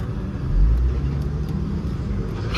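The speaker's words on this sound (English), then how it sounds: "Ooh, it's a Camaro." A Chevrolet Camaro drives nearby on a city road, a steady low engine and road rumble heard from inside another car, swelling slightly then holding even.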